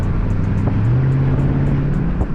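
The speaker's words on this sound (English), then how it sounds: "It has that active exhaust to where it closes the valves, you know, so it's not as loud." Dodge Charger 392 with active exhaust idling in auto mode with the valves closed, a steady, muffled low engine drone held throughout at a constant level, with no voices.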